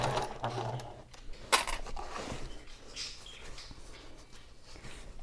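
A sewing machine stitches the side seam of a handbag, a fast mechanical whirring patter with brief stops and bursts, close up and fairly quiet, with no talking.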